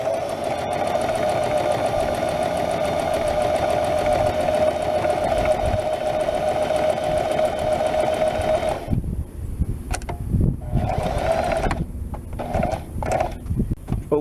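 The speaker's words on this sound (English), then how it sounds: "Always make a reverse stitch that ties the end into a knot" A domestic sewing machine stitches cushion cover fabric with a fast, steady mechanical whirr for about nine seconds, then breaks into short stop-start bursts of stitching, heard close and loud.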